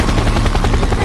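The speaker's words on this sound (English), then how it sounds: "That's a helicopter." Loud, rapid thudding of helicopter rotor blades, a dense chopping pulse filling the whole short moment at close range.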